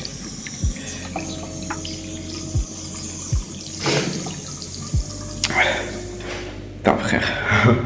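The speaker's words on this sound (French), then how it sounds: "il y a un truc pour se laver les mains" Water runs from a tap at a hand-washing station, a continuous close splash with scattered drips and knocks, while someone talks over it.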